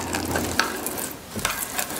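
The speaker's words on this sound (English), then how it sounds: "And then we're going to take this and spread it in the bottom of our pan." A spoon or spatula spreads a sticky bun topping made with vanilla across the bottom of a baking pan, making soft, close, irregular scraping and smearing sounds with no talk.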